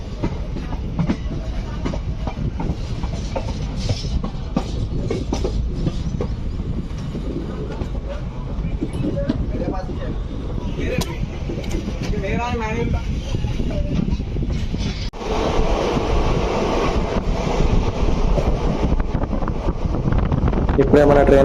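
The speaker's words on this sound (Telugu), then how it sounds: "ఇప్పుడే మన ట్రైన్ అయితే స్పీడ్ అందుకుంది." An express train from Charlapalli to Chennai Central running at speed, heard from inside: a continuous loud rumble with rhythmic clickety-clack of wheels over rail joints and wind noise, plus some speech in the carriage.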